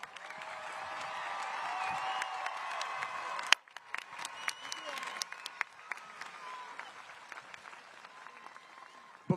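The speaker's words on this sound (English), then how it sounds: "Let's give them a huge round of applause." Graduation ceremony audience applauding the 2024 high school graduating class, a sustained round of clapping that swells, briefly dips, then continues with scattered sharp claps in a large hall.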